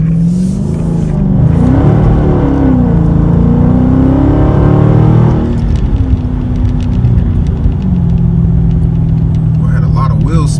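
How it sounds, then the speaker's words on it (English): A car accelerates hard from a spot on a freezing day with its engine loud and close. The revs climb for several seconds, ease off, then the engine rumbles on at a lower pitch. "I had a lot of wheel spin that time."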